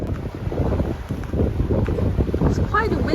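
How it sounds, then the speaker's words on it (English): Strong wind buffets the microphone on the Hudson Bay shore at Long Point, Quebec, with waves on a big lake nearby. The gusty roar runs loud and steady throughout, and a person speaks over it. "It's quite windy."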